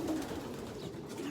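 Young racing pigeons in a loft coo softly and close by, a low murmuring call over a quiet background with no talk.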